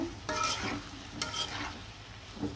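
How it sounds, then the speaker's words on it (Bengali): Tomatoes fry with flat beans and potatoes in a pan for a hilsa fish dish, with a soft, quiet sizzle and quick stirring scrapes of a spoon, and no talking. "টমেটোগুলো দিয়ে দিলাম, টমেটোটাও এভাবে কষিয়ে নিব সিম আর আলুর সাথে"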